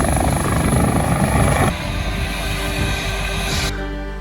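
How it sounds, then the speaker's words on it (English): An RACQ Care Flight rescue helicopter flies over, rotor thudding and engine whining loudly, then the noise drops and fades as it moves away. "nothing sounds better than that rescue helicopter"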